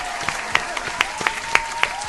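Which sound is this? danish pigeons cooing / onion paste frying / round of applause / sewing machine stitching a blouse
round of applause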